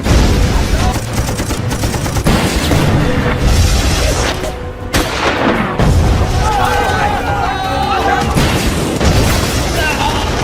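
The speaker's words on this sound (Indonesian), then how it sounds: "meledakkan tank-tank pasukan Irak dengan senjata RPG" Tanks blown up by RPG fire in a war film battle: a loud, dense run of booms and gunfire bursts with a brief lull midway, heavy and continuous, with a narrator speaking over it.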